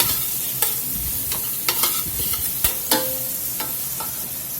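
Garlic frying in a pan for Southern fried cabbage: a constant sizzle broken by several sharp clicks and scrapes of a utensil stirring against the pan, no voices.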